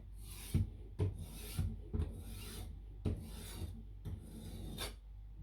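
Knife sharpened on an Edge Pro Apex 2 stone, a steady series of about six close, even rasping strokes back and forth along the blade, alone without talk.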